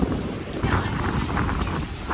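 Heavy rain pours steadily outdoors during a monsoon downpour, a dense continuous roar of drops on surfaces with gusty wind and no clear voices.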